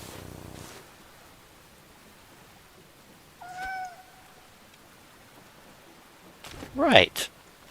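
A single cat meows once, fairly close and clear, against a soft steady hiss, followed later by brief rustling and handling noises.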